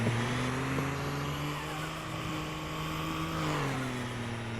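A truck's engine in the video game Farming Simulator 22 hums in a steady low drone, then slides down in pitch near the end as it eases off. No one speaks.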